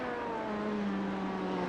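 Race car engine in the iRacing sim at the Petit Le Mans endurance race, a steady droning tone with engine pitch shifting slightly downward as the driver clutches and brakes.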